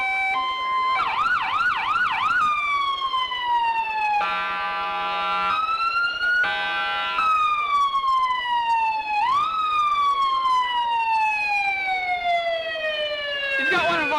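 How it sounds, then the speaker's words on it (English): City police cruiser siren leading a Fourth of July parade, very loud and close, cycling through wail, yelp and rising and falling tones with a brief horn-like blast, continuous throughout. "Those sirens are loud."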